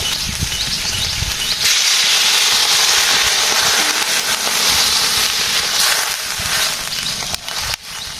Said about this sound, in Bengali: সবজি কষানো হয়ে গেছে, আমাদের জল দিয়ে দেবো।